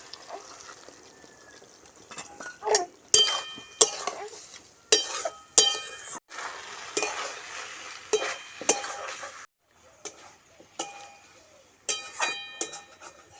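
Chili paneer with a flour-and-water slurry being stirred in a hot pan, spoon scrapes and clacks arriving in uneven bursts over a soft sizzle, with brief pauses between strokes.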